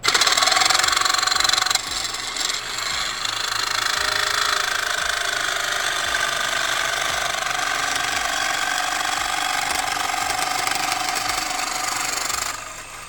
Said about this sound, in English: Trying to cut my vise in half.